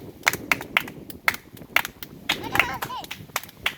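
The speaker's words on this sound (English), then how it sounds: "Can you guys clap your hands?" A group claps their hands in a string of sharp, uneven claps at a Taino Areyto Day gathering, with voices between the claps.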